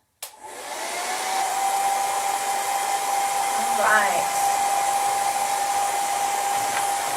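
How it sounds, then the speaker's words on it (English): Hair dryer switched on and blowing steadily for about seven seconds with a whining tone, used while crafting a vintage carrot sign for spring; a short spoken remark comes just as it starts. "forgive me while I turn the blow dryer on for a minute here"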